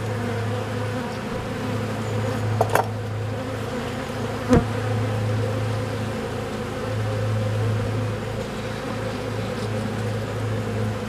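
Dense, droning buzz of many bees hums steadily close by at a hive during feeding, with a couple of brief knocks and taps breaking through.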